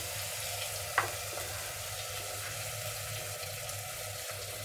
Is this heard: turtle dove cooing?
no